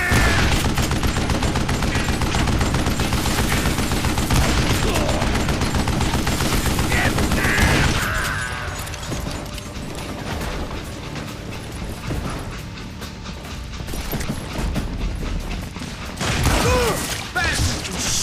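Gunfire in the western shooter Call of Juarez: Gunslinger, a dense, loud run of shots with mechanical clatter through the first half that eases into quieter, sparser activity, while a voice talks over parts of it.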